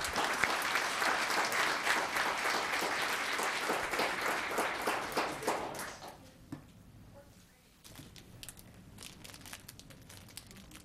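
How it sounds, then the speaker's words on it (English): Applause fills a town council chamber for Annalise after the Pledge of Allegiance, steady for about six seconds before thinning to scattered claps and rustling. "A big hand for Annalise."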